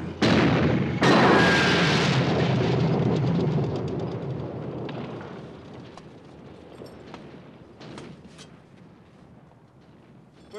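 A tank cannon fires in a wartime battle scene, one heavy, loud boom whose deep rumble fades slowly over several seconds, with faint crackles and distant noise trailing behind.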